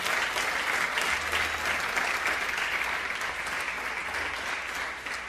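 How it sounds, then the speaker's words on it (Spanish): A church congregation bursts into steady, enthusiastic applause during a sermon, thick continuous clapping filling the room at a constant level with faint crowd murmur underneath. "Dale un aplauso al Señor"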